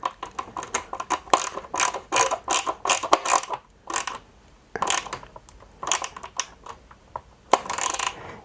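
Small screws being driven into the rear section of a Citroën DS19 scale model, a series of close, dry ratcheting clicks in short bursts with brief pauses between them.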